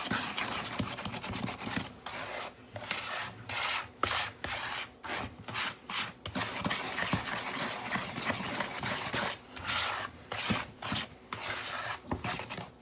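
Nana's spice cookie dough with molasses being mixed by hand, a steady close rubbing and scraping that comes in rhythmic strokes with brief pauses, continuous and textured throughout without any voices.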